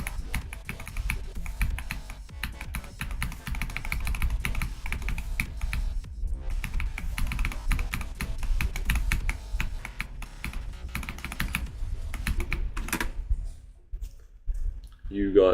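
Fast, continuous clicking of a computer keyboard being typed on, close and steady, with a voice talking over it throughout and a brief pause near the end.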